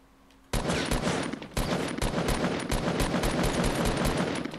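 Fortnite gunfire on a hillside battlefield, opening after a brief quiet moment into a loud, dense, rapid stream of shots that keeps up without pause to the end.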